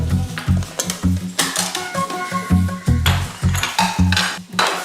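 Plates and cutlery clink while rice is served, with rapid, loud, close metallic taps and ringing scrapes, a steady rhythmic clatter running throughout and no talk.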